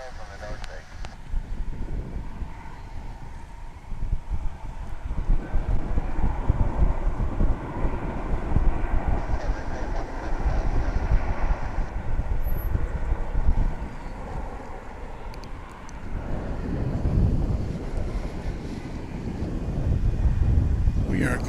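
Gusty southeast wind at about 16 mph buffets an outdoor microphone at a large airport, a continuous low roar that swells and eases in gusts under ongoing talk.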